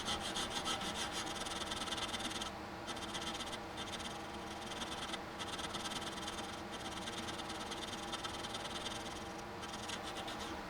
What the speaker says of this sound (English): I had to start using this file because it was so small